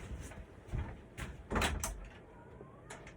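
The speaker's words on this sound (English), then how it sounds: "My cat's knocking on the door." A cat knocks on a door from the other side, producing a few muffled thumps and rattles spaced irregularly, the loudest near the middle, heard fairly close in an otherwise quiet room.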